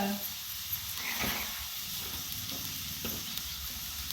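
Green chillies fry in oil in a village kitchen, producing a steady, moderate sizzle with soft stirring scrapes and faint steamy hiss, quiet and continuous without clear talk.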